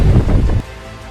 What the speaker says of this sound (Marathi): बेकार वारा सुटला आहे